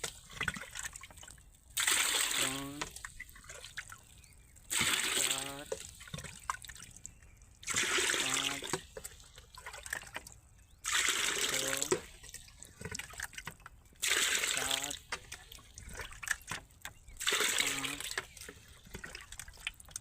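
Water is poured by hand into a row of nine containers for mixing a spray for a cumin crop, heard as about seven separate gushing pours with short pauses between them, close and fairly quiet, with no talking.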